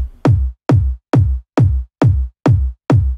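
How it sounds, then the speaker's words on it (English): Thumpy speed garage kick drum sample repeating seven times in a steady, evenly spaced pattern, each hit a punchy low boom with a short decay, loud and alone. "So I've got this really thumpy kick."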